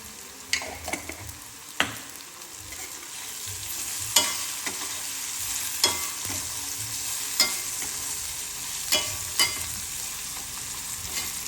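Poha with turmeric stirred and sautéed in a pan: a low, steady sizzle broken by repeated sharp scrapes of the spoon at irregular intervals, close by, with no voices.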